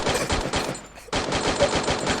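Rapid bursts of automatic gunfire in the video game Free Fire crackle continuously, broken by a brief pause, then resume just as fast and loud.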